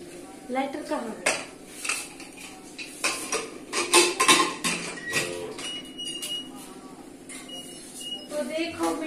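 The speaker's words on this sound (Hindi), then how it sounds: "बर्तन सफाई हो रही है" Pots, pans and cutlery clatter and clank repeatedly up close, with voices talking intermittently over the clinking.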